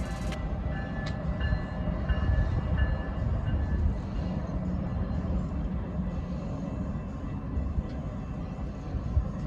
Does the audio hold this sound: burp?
no